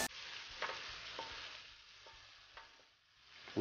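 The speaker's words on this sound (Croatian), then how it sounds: "izmiješamo sastojke i dalje ih pržimo na laganoj vatri" Pumpkin and zucchini fry gently in oil over low heat, a soft, continuous sizzle with a few light clicks as the mix is stirred, quiet and without voices.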